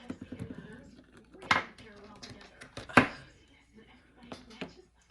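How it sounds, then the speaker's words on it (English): Knife chopping a tomato on a cutting board for an African stew, with quick rhythmic taps followed by a few sharper, louder chops spaced apart, close up, while a voice talks now and then. "I'm gonna cut up the tomato too"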